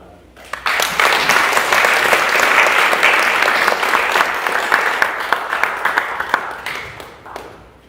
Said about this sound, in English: Please give him a warm welcome and a round of applause for Horia.